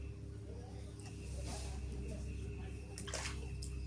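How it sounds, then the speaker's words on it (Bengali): Small cut river fish being washed in water, soft splashing and sloshing with a few sharper swishes, quiet and close against a low background rumble. "এখন ধুয়ে নি ভালো করে"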